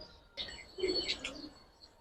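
Giribaz pigeons give a soft coo with faint chirps, close and fairly quiet, in two short bursts against a low background hum.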